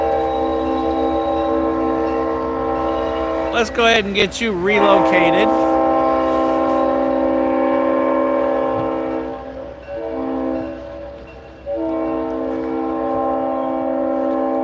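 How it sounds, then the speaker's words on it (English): A Norfolk Southern train rumbles steadily along the track at a crossing near the Tennessee Valley Railroad Museum, with droning engine tones, while someone speaks briefly partway through. "since they're gonna go ahead and turn that train on the Y"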